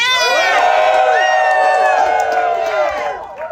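A protest crowd in New York City cheers loudly, with many voices shouting, whooping and yelling together at close range, then the roar tapers off toward the end.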